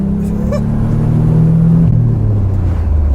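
A 1987 Nissan 300ZX Turbo pulls hard under acceleration, its engine a loud, steady droning rumble heard from inside the car, the pitch climbing through the pull with a brief shift partway through.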